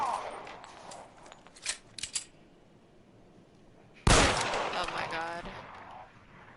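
Gunfire in L.A. Noire: a few sharp shots early on, then a sudden loud blast of close gunfire with a ringing, rattling decay, and a voice exclaiming in between.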